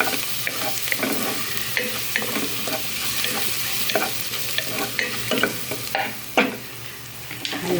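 Garlic sautéing in hot oil in a pan for a home-style chicken arroz caldo, a steady close sizzle with frequent scraping stir strokes and utensil clicks throughout, no voices.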